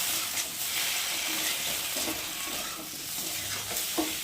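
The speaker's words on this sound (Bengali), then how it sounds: "আমি পোস্ত আর কাঁচা লঙ্কা বেটে নিয়েছি, সেটাকে এখন ঢেলে দেবো" Ground poppy seed and green chili paste is poured into salted potatoes frying in a pan, giving a bright, steady sizzle and hiss with a few soft stirring scrapes, close and continuous.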